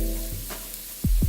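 Shallot sizzling in a hot pan, a steady close frying hiss throughout, with two sharper stirring scrapes near the end.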